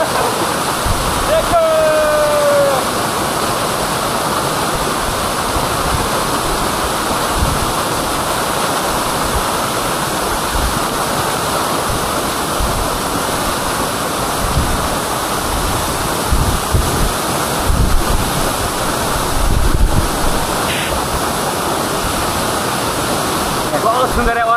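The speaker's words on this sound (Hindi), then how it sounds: "झरना है, बहुत सुंदर है, और हवा बहुत सही से आ रहा है" A waterfall in Kra Daadi district, Arunachal Pradesh, roars in a steady, loud, broadband rush with gusts of strong wind buffeting the microphone, and faint voices come through now and then.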